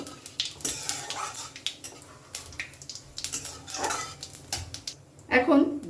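A spoon clinks and scrapes in a pan as bay leaf and cumin are stirred in hot mustard oil for tempering, giving scattered close clatters with a louder knock near the end and a quiet voice at moments.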